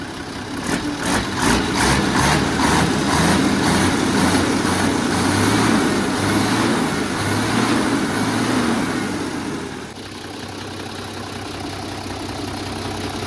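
A heavy Mitsubishi 6D22 turbo diesel truck engine idles steadily, a low rumbling drone with a rhythmic chug, then the tone drops slightly and settles near the end.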